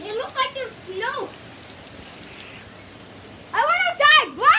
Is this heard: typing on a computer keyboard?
no